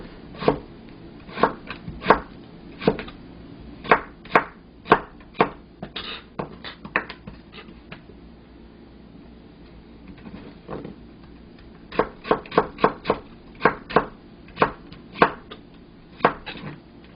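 A knife chops vegetables on a cutting board, slicing them into thin julienne strips for Korean cuisine, sharp rhythmic taps in quick bursts separated by a pause, close and clear with no talk.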